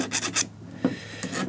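Metal file rasping across steel crampon points to sharpen them, a few short scraping strokes in quick succession, then a pause before more strokes, close and fairly quiet.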